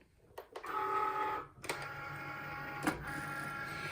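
An electronic cutting machine working on faux leather for earrings gives a steady motorized whir with a tonal hum. It pauses briefly partway through, then resumes at an even level with a small click.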